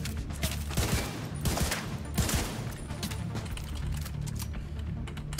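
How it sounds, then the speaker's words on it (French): Gunfire from The Division 2 video game, rapid bursts of shots rattling in clusters over a steady background hum, fairly quiet with no talk. "Bon, j'ai tiré juste avec mon flingue,"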